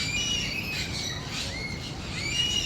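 A bird at a wildlife park squawks in short, sharp calls with a few thin chirps, moderately close, over a low rumbling outdoor background with no voices.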